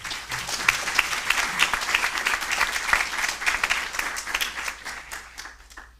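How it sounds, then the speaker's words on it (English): Conference audience applauding steadily for several seconds, dense clapping from a large crowd that gradually thins and fades toward the end. "Can we please have a round of applause for Mark?"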